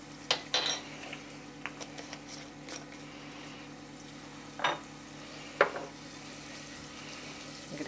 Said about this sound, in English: I'm going to keep stirring this so that nothing burns.